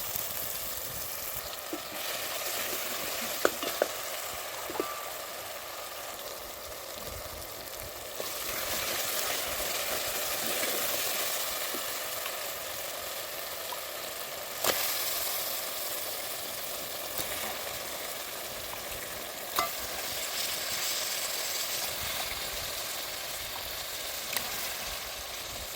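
Sambusa frying in a pan, a continuous faint sizzle that swells and eases over time, broken by occasional small clicks, with no one speaking.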